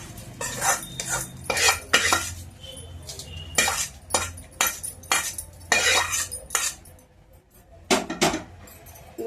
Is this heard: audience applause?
no